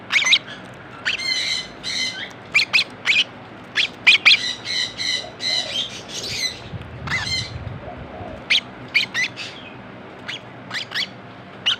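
Lovebirds around 40 days old, yellow with red eyes, chirp and squawk in sharp repeated bursts close by, with short pauses between calls and a low rumble of background noise.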